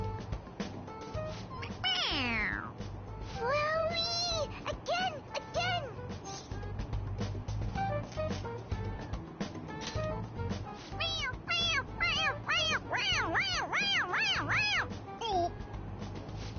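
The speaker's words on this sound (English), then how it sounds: "It meows when you press on its head." A toy cat in Persona 5 Royal meows each time its head is pressed, several distinct meows repeating across the scene, with game music and a voice speaking in between.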